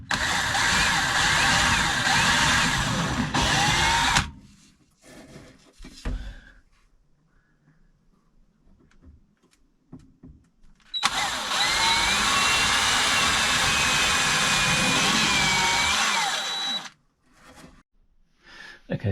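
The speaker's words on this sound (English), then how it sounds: "What I'm going to do is drill 3 holes, 1, 2, 3 there" A power drill bores holes into a motorhome table mount in two long whining bursts separated by quieter handling noises, close and loud.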